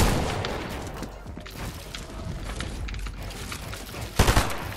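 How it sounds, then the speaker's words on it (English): Sniper gunfire in the video game Fortnite, with a steady bed of game sound and several faint distant cracks, then a sharp loud burst of close shots near the end. "Oh, physics skin getting sniped at."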